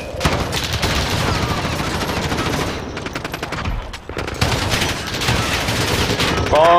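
Sustained automatic gunfire from Call of Duty Modern Warfare multiplayer, dense bursts and rapid shots filling the whole stretch, loud and close with a brief lull near the middle before firing resumes.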